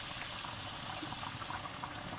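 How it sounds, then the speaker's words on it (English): Water poured from a cup into mince braising in a pan for a curry, a steady close hiss and trickle of liquid hitting the hot meat, continuous and fairly loud throughout. "at this point what you're going to do is drop in 1 cup of water"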